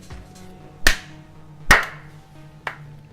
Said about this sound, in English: I did two claps, one louder than the other